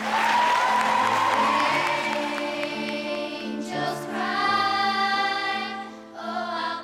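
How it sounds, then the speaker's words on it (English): A school audience cheers and applauds for students receiving certificates, a loud sustained crowd roar with whoops and shouts, carrying over music, briefly dipping near the end before surging again. "give a massive round of applause for every single student"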